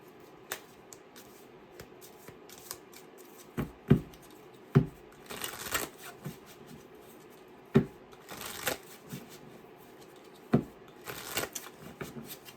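A tarot deck is shuffled by hand in several separate bursts of riffling and card slaps, close and fairly quiet, with soft handling noises in the gaps.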